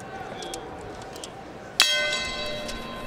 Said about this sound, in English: The bell in round two,